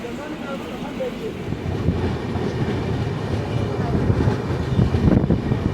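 Saraighat Express between Howrah and Guwahati, running behind schedule: a close, continuous rattle and rhythmic clickety-clack of the carriages on the rails that grows gradually louder toward the end.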